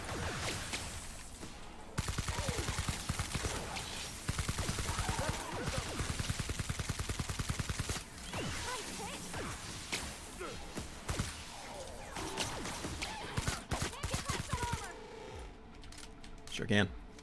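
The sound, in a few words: gunfire from a weak gun in The Outer Worlds video game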